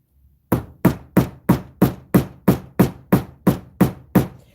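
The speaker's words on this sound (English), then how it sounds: "I'm going to use the nylon side of the hammer." Twelve sharp, evenly spaced blows of a nylon hammer on a solid rubber block, each a loud thud with a quick decay, in a steady rhythm.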